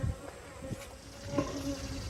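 Honey bees buzz steadily inside a crowded, packed-out hive that has become overcrowded after its honey supers were removed. The hum is close, continuous and fairly quiet, with no voices.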